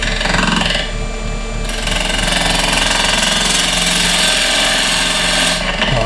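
A bowl gouge cuts steadily into a wooden bowl spinning on a lathe, giving a loud, continuous rough chatter with a rhythmic thump from the off-center blank, close up and with no talk.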